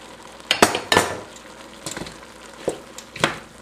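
Browned meat and julienned carrots being stirred in a pan for Filipino lumpia filling: several sharp scraping clinks of a utensil against the pan over a quiet, steady sizzle, with no voices.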